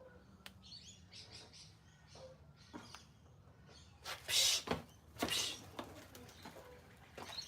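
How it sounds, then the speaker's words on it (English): Birds call in a suburban backyard where pigeons are present, giving scattered faint chirps and tweets with a couple of louder, brief bursts near the middle; no one speaks. "We've got bloody pigeons in our backyard."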